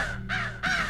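Two harsh, close crow caws ring out about half a second apart over a low steady hum, in a scene from a Hindi TV drama.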